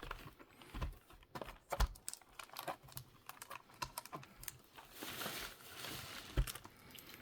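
Plastic wrap is picked at and torn off a Riftbound Origins card box in a close, quiet series of crisp crinkles, scratches and tapping clicks with irregular rhythm.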